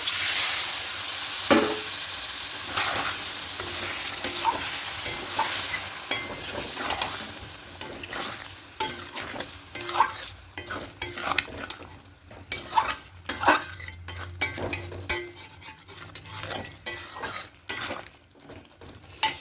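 Stirring in a pan of fried spiced potatoes for a vegetarian potato dum with peas after a little water is added: steady sizzling and hissing under repeated scraping and clinking of a utensil against the pan, close and fairly loud.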